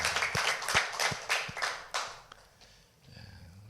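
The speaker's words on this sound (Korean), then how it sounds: "큰 박수로 하나님께 영광을 돌립니다." A church congregation clapping during a Sunday morning service at Andong Holiness Church, a few slow, loud, distinct claps that quickly fade out, followed by quiet room noise.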